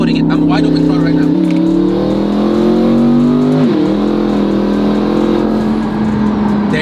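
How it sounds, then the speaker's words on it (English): A twin-turbo C8 Corvette accelerates hard at wide open throttle, its engine roaring loud and steady with rising pitch and a shift mid-clip, heard from the cabin with a voice speaking over it. "I'm gonna be flat-footing it. I'm wide open throttle right now."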